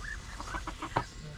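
Chickens cluck in a backyard garden, a run of short, quick clucks and squawks at moderate distance over steady background noise, one sharper call standing out near the end.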